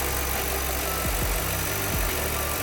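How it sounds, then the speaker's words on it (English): A Ford V8, a 7.5 L or 4.6 L, idles steadily and smoothly up close with a deep, even rumble, running alone for the whole stretch. "It's a good running motor too."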